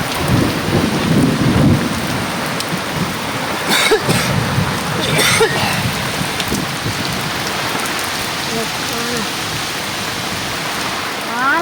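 Heavy rain pours steadily on a village, with a broad hiss drumming across surfaces and deep thunder rumbling in bursts near the start and again midway, loud and continuous throughout.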